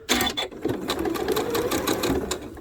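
A sewing machine stitches half square triangle quilt blocks onto a leader piece, guided by a laser line, running in a steady close whirring burst with brief pauses and faint hand-handling sounds.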